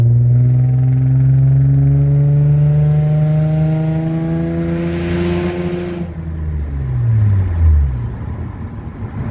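A car with a P1716 speed-sensor fault that won't shift revs up hard under throttle, its engine note rising steadily and loudly for several seconds, then dropping away as the revs fall, with no talk.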